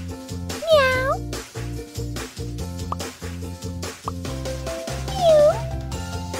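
Two drawn-out cartoonish cat meows ring out over bouncy game music in a kitten pet-care hair salon game, one early and one near the end.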